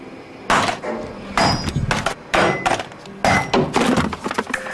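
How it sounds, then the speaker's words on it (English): A power sander dropped from six feet in a drop test, giving four loud separate crashing impacts, each a sharp clatter followed by brief rattling, evenly spaced and close up. "What happens to this sander is typical. This is called the 6-foot drop test."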